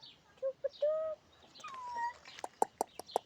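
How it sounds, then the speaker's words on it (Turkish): A rooster and two hens cluck and make short, drawn-out calls nearby, followed by a quick series of sharp clucks in a quiet outdoor village setting. "Bir horoz iki tane tavuğu almış yanına geziyor"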